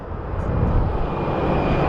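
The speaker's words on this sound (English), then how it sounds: "That's going to be the next plane landing" An American Airlines jet lands at Phoenix Sky Harbor airport, its engines giving a loud, steady, broadband roar that sits close and holds throughout, with no voices.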